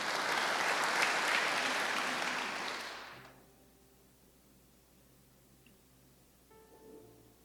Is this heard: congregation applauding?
yes